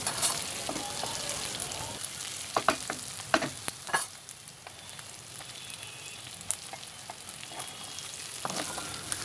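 Fried potatoes are stirred into a sizzling pangas fish mixture in a frying pan, with a steady frying hiss broken by scraping and clattering stirring strokes close by.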